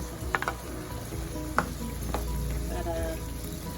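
Four peeled potato pieces are dropped into a pan of chicken simmering in coconut milk, producing a steady low frying sizzle punctuated by a few clinks and scrapes of stirring.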